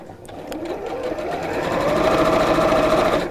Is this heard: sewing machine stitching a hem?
yes